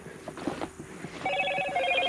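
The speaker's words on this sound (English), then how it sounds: "I'm finna cut the notifications off on my phone for good." A phone notification rings with a repeated electronic tone, beginning partway through after some faint rustling and footsteps, then continuing steadily and fairly loud.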